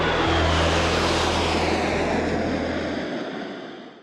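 A MiG-29 tactical fighter jet roars past, loud, steady and broadband with a deep engine drone, then fades away near the end with no voices.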